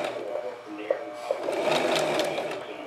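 Sewing machine stitching hems on fabric, its motor whirring up from a slow start into a steady faster run, with a couple of distinct clunks along the way.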